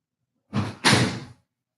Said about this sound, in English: Let's close the door here.